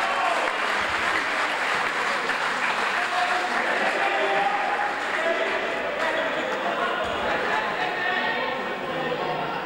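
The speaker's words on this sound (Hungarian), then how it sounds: "Természetesen szól a vastaps a közönségtől a hajdulánási hálóőrnek." Loud, sustained applause from a handball crowd rewarding the goalkeeper's save, a dense steady roar of clapping mixed with crowd chatter that fills the whole stretch.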